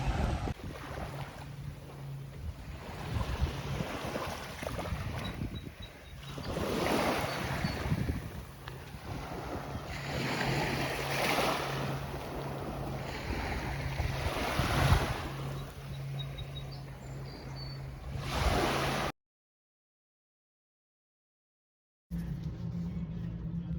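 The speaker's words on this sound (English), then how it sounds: "I'm heading down to the ocean to just breathe in the salt air" Ocean waves and wind on the Cape Cod shore, a continuous roar of surf with gusty wind buffeting the microphone, cutting to silence briefly before resuming.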